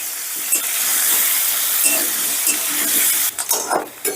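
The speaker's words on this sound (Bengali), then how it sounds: "ভাজার তেলে আলুগুলো ভেজে দিচ্ছি" Potatoes fry in oil with salt and turmeric over raised gas heat, giving a continuous crackling sizzle. Near the end come several stirring scrapes and clinks, and no one talks.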